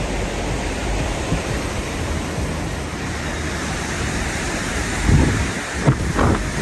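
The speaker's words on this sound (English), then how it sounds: "Sorry about the wind." Strong wind buffets the microphone on North Fork Mountain in a constant roaring rumble, with a few harder gusts thumping near the end.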